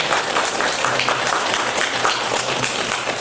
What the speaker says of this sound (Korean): 하나님 앞에 우리 감사와 영광의 박수로 환영하겠습니다.